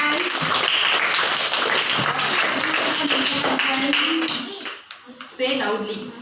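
Children in a classroom clap their hands together in a dense burst for about four seconds, loud and close, then it tapers off into a few scattered claps while a voice speaks over the room.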